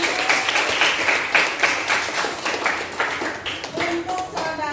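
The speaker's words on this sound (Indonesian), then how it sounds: "Nah, itu tepuk tangan dong." A classroom of students claps their hands together, a dense run of close, fairly loud claps lasting a few seconds, with a voice speaking near the end.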